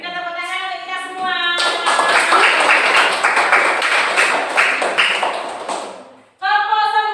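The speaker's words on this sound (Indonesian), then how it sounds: "berikan tepuk tangan untuk kita semua" A class of children applauds together in a classroom, a dense burst of clapping lasting several seconds between stretches of a teacher's voice.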